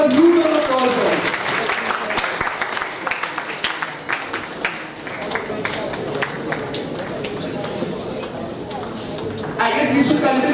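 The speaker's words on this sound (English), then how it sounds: "May we please give them a huge round of applause." Audience applause at a national conference, a sustained spread of clapping filling the room for about ten seconds, with some talking mixed in near the start and end.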